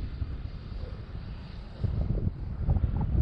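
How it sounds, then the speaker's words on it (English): Strong wind buffets an outdoor microphone in a steady low rumble that swells louder in gusts during the second half, with no voices. "And of course the winds have picked up."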